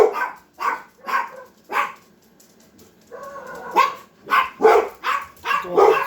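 Dogs bark outside in a series of repeated sharp barks, a few spaced evenly, then a pause, then a denser run of louder barks at a moderate distance.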